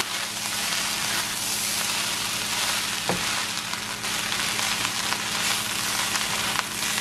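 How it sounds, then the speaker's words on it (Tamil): Fried rice sizzling steadily in a hot pan on high heat, a dense continuous crackle with one brief clink of a utensil midway. "ஃப்ரைட் ரைஸோடைய நல்லா இந்த பொரியிற மாதிரி இருக்குல்ல"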